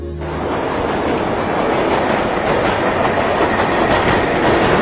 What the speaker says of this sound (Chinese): 这是美国的地铁站